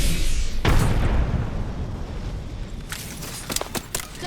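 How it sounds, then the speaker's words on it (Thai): A single loud explosion in the game Apex Legends bursts early and rumbles away into a fading roar, followed by a few sharp clicks and pops. "เออระเบิด"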